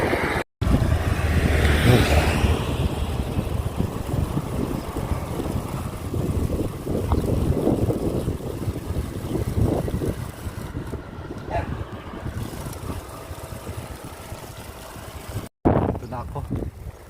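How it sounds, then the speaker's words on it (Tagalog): Cold morning wind buffets the microphone in a continuous low rumble, gusting unevenly, with a voice talking in Filipino at times and two brief dropouts. "Malamig ng simoy ng hangin."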